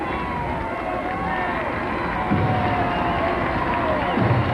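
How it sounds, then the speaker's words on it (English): A crowd along the 1985 Great Circus Parade route in Milwaukee greeting a guest, a broad hum of cheering and chatter with two louder swells of shouting, close and continuous. "you can hear the crowds as they greet him now"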